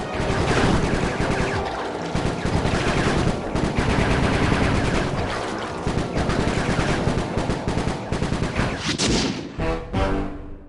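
Sustained gunfire from the video game Sly 3, loud and continuous over nearly eleven seconds, with dense rapid shots layered over game music and no pauses.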